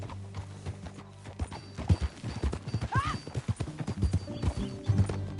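Horse hooves clip-clop in a steady gait in the Red Dead video game, and a brief neigh rises in the middle over the rhythmic footfalls at moderate volume.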